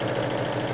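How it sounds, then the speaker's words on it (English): Sewing machine running a straight seam along fabric piping, a steady close motor hum with a fast even rattle of the needle throughout, no voices. "and sewing that straight line."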